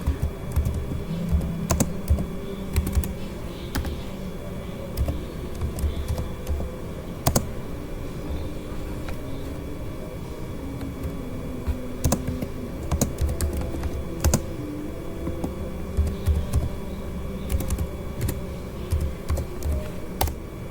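Steady typing on a computer keyboard while entering switch configuration commands for an EtherChannel setup, with continuous key clicks and occasional louder keystrokes throughout, no talking.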